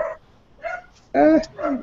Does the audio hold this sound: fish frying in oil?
no